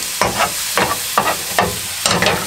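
Eggs and other ingredients stirred together in a pan over a gas stove in a camper van, a utensil scraping in steady repeated strokes about every half second against a soft sizzle.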